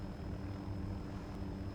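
An MH-6J helicopter in Arma 2 produces a steady, continuous low engine and rotor drone throughout, loud and close with no pauses and no talk over it.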